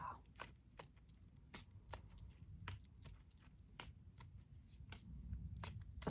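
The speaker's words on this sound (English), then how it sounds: "So after we do our card shuffle" A deck of playing cards being shuffled by hand, with a run of sharp, rapid riffling clicks and flutters repeating across several seconds over a low background murmur, moderately close and fairly quiet.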